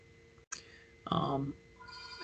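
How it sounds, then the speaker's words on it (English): A mobile phone rings in a short burst of bright, tonal chiming that starts up suddenly after a brief silence, fairly close and clear, then trails into a softer electronic tone. "Sorry, my phone is ringing."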